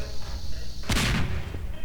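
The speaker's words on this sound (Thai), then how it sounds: "มีคนระเบิดอยู่ข้างล่างตีนกู" Explosion in the Roblox game, a giant worm rising from the ground to smash players, bursts out as one loud broadband blast partway through, with a rumbling tail and game sounds around it.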